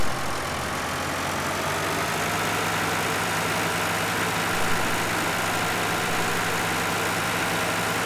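Tractor engine idling steadily in Farming Simulator 2013, a continuous low droning hum with a faint mechanical whine, even in level throughout with no voices.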